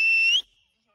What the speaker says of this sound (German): Einmal laut pfeifen ist lauter.